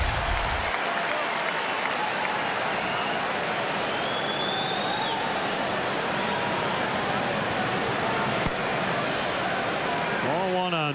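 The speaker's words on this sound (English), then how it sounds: "Nice acknowledgement from the crowd as they just showed him on the big board." A stadium crowd at a Cubs baseball game, Angels at Cubs, keeps up steady, broad applause and cheering for the whole stretch, at even loudness from start to finish.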